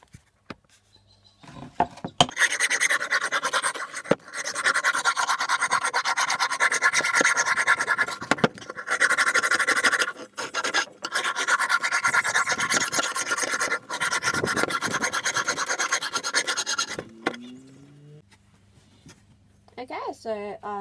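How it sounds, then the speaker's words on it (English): A steady rasping scrape of a file worked back and forth on the metal of an antique chisel, close and continuous, with brief pauses between runs of strokes. "So I'm just going to file this."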